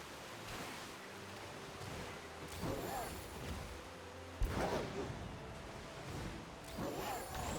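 A roaring waterfall in a Pokemon video game keeps up a steady, full rush of white-noise water for several seconds, with swells and a sharp splash partway through.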